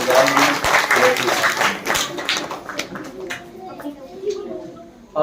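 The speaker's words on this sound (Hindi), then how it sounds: "जोरदार तालियां" A congregation at a Christmas church service claps loudly, a dense burst that gradually thins into scattered claps and fades.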